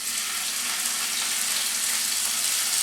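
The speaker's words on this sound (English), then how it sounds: "Now I put in my beef." Beef sizzles on high heat in a hot pan of melted butter and olive oil, a loud, even, close hiss of frying that runs without a break and has no talk over it.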